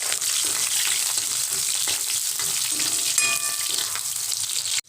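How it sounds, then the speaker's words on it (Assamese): Raw onion and green chilli frying in hot mustard oil in a pan, a steady, close sizzle that stays loud and even throughout with faint stirring scrapes and no talk. "ইয়াত এতিয়া মই কেঁচা পিয়াজ আৰু কেঁচা জলকীয়াখিনি প্ৰথমতে ভাজি লম"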